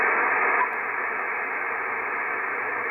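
Icom IC-7300 receiver noise with the preamp on and IP Plus disabled: a steady, even band of hiss with a slight step down in level just after the start, then constant and alone.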